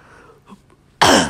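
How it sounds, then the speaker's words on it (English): A single sharp cough close to the mic, loud and abrupt after a near-silent moment. "And I'm about to cough."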